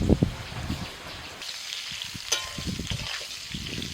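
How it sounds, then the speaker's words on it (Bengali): Ridge gourd and potato sizzle and crackle in a hot pan, a steady frying hiss with occasional stirring clatter, close up and without talking. "আলু ভাজা হয়ে গেছে এবার দিয়ে দিচ্ছি ঝিঙে"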